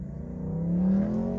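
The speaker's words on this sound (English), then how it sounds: "Damn, nice Ferrari." A Ferrari sports car's engine rises in a smooth, building whir as it goes by on the road, loud and close for a moment, with no voices over it.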